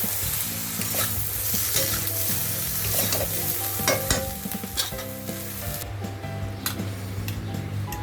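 Turmeric and spices frying in hot oil, a steady sizzle with stirring scrapes and clinks of a spoon against the pan, continuous and close without speech.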